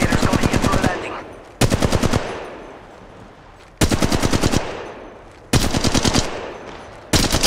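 Rapid automatic gunfire in the mobile shooter Apex Legends Mobile, loud bursts of repeated shots roughly every two seconds, each followed by a fading echo and quieter game ambience between volleys.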